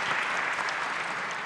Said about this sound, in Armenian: ես խնդրում եմ ևս մեկ անգամ ջերմորեն ծափահարենք բոլոր բանախոսներին, ինչպես նաև մոդերատորին